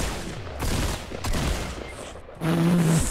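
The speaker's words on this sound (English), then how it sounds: "Oh, shotgun." Heavy shotgun blasts in a Fortnite match, several loud booming shots separated by brief pauses, close and punchy with a tonal game sound near the end.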